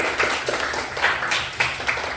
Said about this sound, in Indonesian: Ayo tepuk tangan untuk si Rasid.